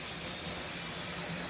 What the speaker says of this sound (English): So you see how it's steaming?